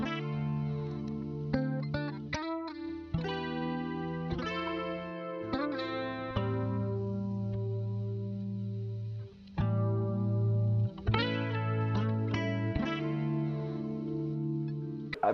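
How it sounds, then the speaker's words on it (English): A layered guitar melody with chorus and distortion effects, plucked notes and chords ringing out in a slow, smooth R&B-style phrase, clear and alone with no voices. "here's what all the guitar sounds like together"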